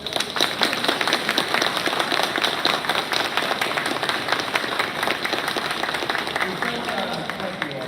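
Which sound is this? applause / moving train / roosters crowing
applause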